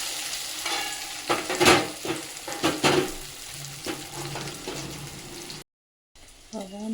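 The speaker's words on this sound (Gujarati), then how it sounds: "ચમચી ભરીને લાલ મરચું નાખી દેવાનું આપણે ઢોકળાના પીસ કરીને રાખ્યા હતા મસ્ત નાખી દીધું" Dhokla pieces and red chili powder hitting hot oil in a pan, a loud close sizzle with several sharp spoon scrapes and stirring bursts, then a brief dropout and a quieter return.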